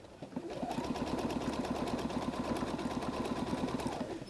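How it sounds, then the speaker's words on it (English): Sewing machine stitching a triple zigzag along a fabric-covered clothesline rope basket, a steady fast mechanical chatter of needle strokes running without a break for about four seconds at moderate volume. "I'm going to go and run my triple zigzag all the way off to the side here where this weaver is ending"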